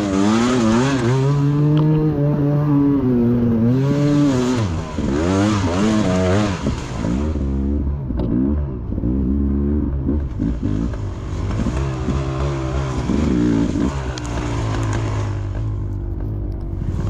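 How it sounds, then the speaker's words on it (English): A hot two-stroke dirt bike engine during a hare scramble race at Northern Neck ATV Park in Colonial Beach, Virginia, revs up and down continuously, loud and close, with pitch swooping through repeated throttle blips and no voices. "So now you can really hear the old two-stroke, how she sounds when she gets hot"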